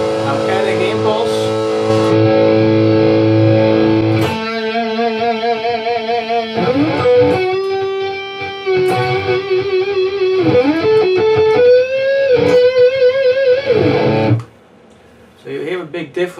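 An electric guitar played through an ABG amp simulator with an impulse added gives a distorted, amp-like tone of sustained chords and bending lead notes, loud and close, ending in a sudden drop.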